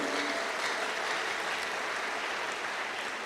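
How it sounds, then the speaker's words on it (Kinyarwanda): A church congregation at a Sunday worship service claps hands together in a dense, continuous round of applause, steady and moderately loud throughout. "Abagabo nidukoma amashyi mu izina rya Yesu Kristo"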